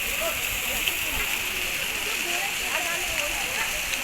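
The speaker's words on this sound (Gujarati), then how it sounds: "મસ્ત ઝરણું જાય છે" A mountain stream on the Kedarnath trail rushes steadily, a continuous broad hiss and gurgle like a fast stream or small waterfall, with no pauses.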